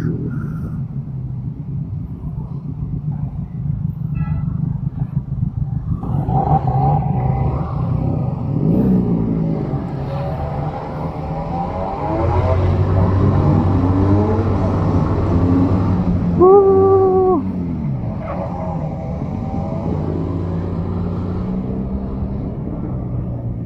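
A Benelli Panarea 125 scooter accelerating on a ride, its engine drone rising and falling in pitch through several pulls, with someone talking over it.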